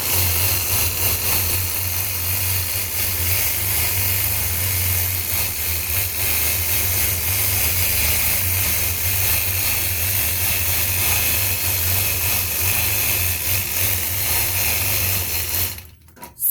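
A longarm quilting machine runs steadily while stitching a rounded stipple pattern, giving a loud, continuous motor hum and rapid needle chatter that holds for about fifteen seconds before abruptly cutting off.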